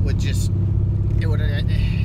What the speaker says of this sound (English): Let's see how this throttle body does.